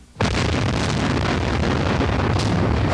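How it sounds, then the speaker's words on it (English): Explosion during an overnight air attack on Baghdad, a sudden loud blast opening into a sustained roaring rumble that fills the rest of the clip, harsh and distorted, with no speech. "Overnight, the explosions continued."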